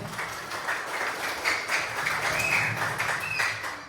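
An audience at a community outreach talk on early marriage, puberty and reproductive health claps together in a continuous, crowded patter of many hands, fairly close and even in loudness, with no voices over it.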